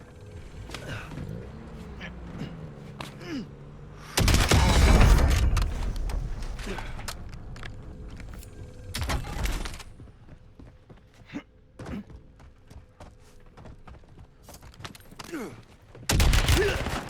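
Gunfire in Warzone erupts in loud bursts of rapid shots, one long volley near the middle and shorter bursts later, separated by quieter stretches of movement and a speaking voice.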